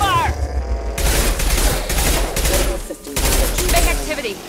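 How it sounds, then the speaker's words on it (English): Heavy gunfire in a Mass Effect 2 firefight, dense loud bursts of shots and rattling automatic fire filling the whole stretch, with combat voices mixed in under the shooting. "Taking heavy fire!"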